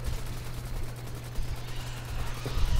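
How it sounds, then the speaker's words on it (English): Rapid automatic gunfire from shooting enemies in the game Warframe, a dense continuous crackle under a steady background roar that builds slightly toward the end. "I'm just going in circles and shooting all of them."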